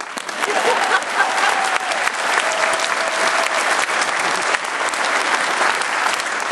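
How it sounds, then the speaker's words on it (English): Dense, loud applause from an audience honouring police aides at a police academy class graduation, sustained steadily throughout. "But let's give the police aides a round of applause."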